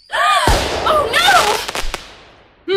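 Fireworks set off as an audio drama sound effect: a loud burst followed by whistling, warbling rockets and a scatter of sharp crackling pops that fade, with another burst starting at the very end.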